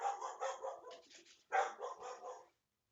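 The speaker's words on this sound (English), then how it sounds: "That's my dog." A pet dog barks nearby during an online card game of Legacy Abzan Maverick, two short bursts of rapid yapping barks separated by a brief pause, moderately quiet.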